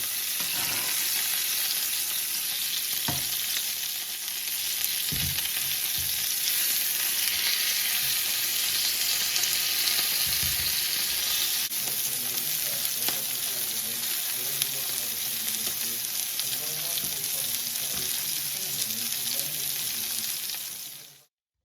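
A steak for beef Wellington sizzles loudly in a hot pan as pan juices are spooned over it, a long unbroken hiss with a few clinks and scrapes, fading out at the end.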